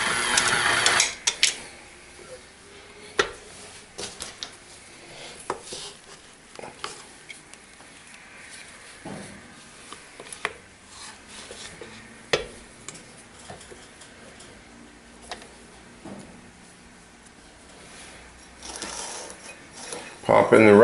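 An electric mixer churns chocolate chips into thick cookie dough, a low steady motor whir with irregular ticks and clunks of chips against the bowl, alongside intermittent talk.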